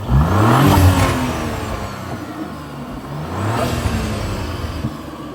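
A 2018 Audi RS5 engine revs hard and roars as it accelerates nearby, the pitch climbing through gear changes, then easing before surging again.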